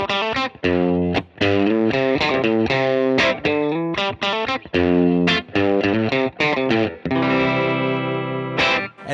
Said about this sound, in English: down low, you can get kind of a nice, gritty, clean sound.